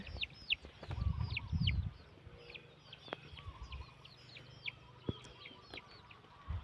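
Hens cluck and squawk in short repeated calls inside a coop, fairly close, with a low rumbling thud early on and no talking.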